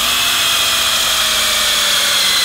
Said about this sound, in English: Now I'm going to drill some holes in the frame here